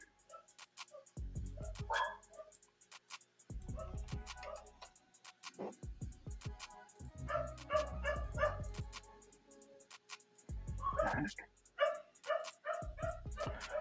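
Several dogs barking in bursts at home, loud and close, with short yips and whimpers between rounds and steady clock-like ticking underneath; no talk during the barking.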